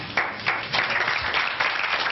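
Applause at a National Front political bureau meeting, a dense burst of many hands clapping in a room, steady and moderately loud for a couple of seconds.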